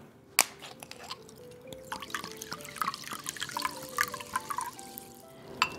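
Sparkling water pours into oil in a bowl, starting with a sharp splash and continuing as fizzing, bubbling drips and trickles, close and fairly loud.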